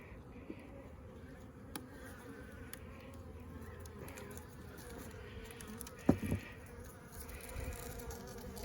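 Honey bees buzzing steadily around sugar feeders at a hive after a storm, a soft continuous hum with a few faint knocks, no talk.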